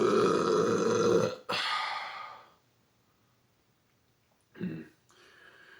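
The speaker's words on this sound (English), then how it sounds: "These are not burps that I would find satisfying" A person burping up close, one long loud drawn-out belch with a short break in the middle, then silence and a second brief burp followed by a breathy exhale.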